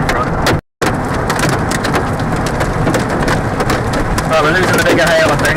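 Hail and rain pelting a car during a tornado storm, a dense, loud, continuous drumming and clatter on the body with a brief dropout early on; voices are heard near the end.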